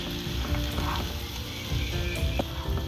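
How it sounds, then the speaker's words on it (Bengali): Dry spices stirred and fried together with potato, raw jackfruit and onion in a pan for a Bengali jackfruit curry, a dense continuous sizzle with light scraping and clinking of the spoon. "এবারে এই শুকনো মশলার উপকরণগুলো একটু নেড়ে চেড়ে নিচ্ছি আলু,"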